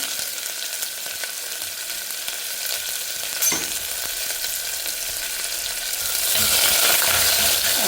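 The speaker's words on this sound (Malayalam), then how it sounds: "അപ്പോൾ അതിലേക്ക് ഞാൻ കുറച്ച് സവാള ഇട്ട് കൊടുക്കുന്നുണ്ട്" Steady sizzling of onions frying in hot oil, with occasional stirring scrapes; the hiss grows louder and brighter near the end.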